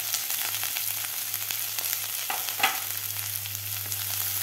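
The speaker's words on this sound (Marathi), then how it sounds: "आता व्यवस्थित आपल्याला हे मोठ्या गॅसवर 2 मिनिट परतून घ्यायचं आहे सगळं भाज्या व्यवस्थित" Shredded cabbage, carrot and capsicum sauté over high heat in a hot pan, giving a steady close sizzle with occasional stirring scrapes, alone without voices, alongside a low constant hum.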